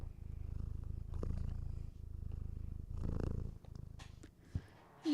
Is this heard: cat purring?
yes